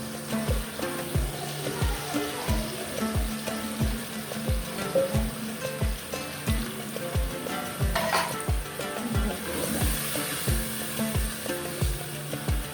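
Masala frying in a pot during home cooking, a continuous close sizzle with bubbling and spitting, overlaid by steady regular tapping or stirring knocks throughout, with no talking.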